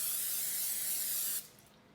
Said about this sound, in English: we are just going to spray our tins here so our cookies do not stick to our tins